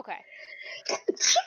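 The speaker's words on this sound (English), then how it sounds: "Bless you. Whoever sneezed." A single sharp sneeze bursts out amid a tabletop role-playing session, loud and close, with people talking just before and around it.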